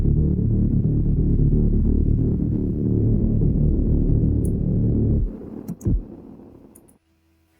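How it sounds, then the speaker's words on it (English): Heavily distorted liquid drum and bass synth bass from FL Studio, a dense, loud, sustained low growl that plays continuously for about five seconds, then cuts to a few short stabs and a faint tail before silence. "as for the effects, I added some distortion, and you can hear what it does."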